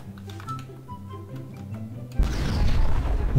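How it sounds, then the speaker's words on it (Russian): A napalm bomb explodes in the sandbox game Garry's Mod: a sudden loud boom after quieter ticking and background tones, followed by a sustained, roaring burn that fills the rest of the moment. "Это вот напалмовая бомба."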